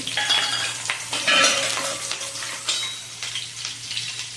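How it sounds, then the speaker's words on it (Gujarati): Whole cumin seeds, curry leaves and a cut green chilli crackle and sizzle in hot oil for a tadka, with a spoon stirring and clinking against the pan in short, uneven bursts, close and moderately loud. "તો તેલ ગરમ થઈ ગયું છે। તીખારી બનાવવા માટે નાખીએ આપણે આખું જીરું, લીમડાના પાન, 1 લીલું મરચું કટ કરેલું"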